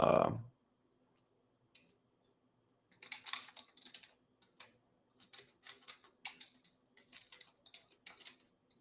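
Computer keyboard typing in bursts of quick clicks, alone and close, following a brief loud knock at the start.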